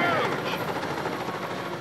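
A helicopter in the PS2 video game Monsters vs. Aliens, a loud whirring rotor drone holding steady for a moment.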